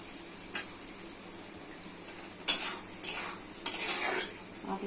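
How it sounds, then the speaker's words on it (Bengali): Fried potatoes are stirred into sizzling masala in a pan, with several sharp spatula scrapes and clinks over a soft, steady sizzle nearby. "মশলা কষা হয়ে গেছে দিচ্ছি ভেজে রাখা আলু,"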